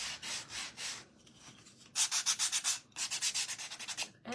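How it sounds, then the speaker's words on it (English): Hand sanding of black-painted wood, rhythmic bursts of scratchy rubbing strokes, a few slow ones then a quicker run of short strokes after a pause, close and fairly quiet. "I am sanding the black, just like I would anything else"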